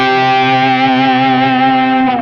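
An electric guitar plays a fat, sustained lead note boosted by a JHS overdrive pedal, a loud, rich, distorted tone that rings on alone and fades slightly at the end.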